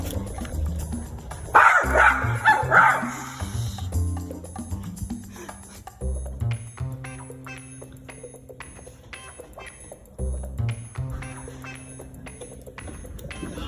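A dog barks and yips in short bursts, close by, with electronic music and beeps playing throughout.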